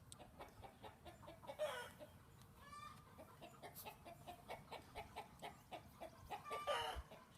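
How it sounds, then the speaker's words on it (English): Backyard chickens clucking at a distance, with a rooster crowing once, soft irregular calls repeating over faint ambient noise. "those are my chickens in the background"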